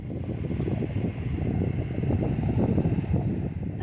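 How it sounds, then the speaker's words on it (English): Strong wind in the Florida Keys roars and buffets continuously, a dense low rumble with gusty fluctuations and no pauses. "the weather has really changed and it's super windy"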